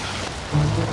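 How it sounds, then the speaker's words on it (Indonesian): Heavy rain pouring down steadily, a dense wash of noise that swells louder near the end with a low rumble beneath. "Di tengah derasnya guyuran hujan yang seolah ikut meratapi nasibnya, Hasan berkendara menuju bandara"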